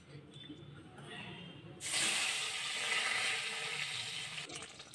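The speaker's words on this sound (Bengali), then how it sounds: "মাছটা আগে ভেজে নিই।" Koi fish sizzling as it hits hot oil in a pan, a sudden loud bright hiss that starts partway in and holds steady, preceded by quiet kitchen sounds.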